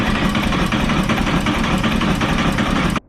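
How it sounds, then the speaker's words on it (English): A 2021 Harley-Davidson Road Glide Limited engine cranks without firing, a close, loud, rhythmic churning of the starter that runs about three seconds and then cuts off abruptly. "What this will do is it'll crank your engine, but it won't fire it up."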